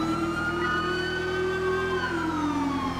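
Emergency vehicle sirens in a police roleplay video game, a loud steady wail that holds its pitch and then slides downward, close and alone with engine hum beneath.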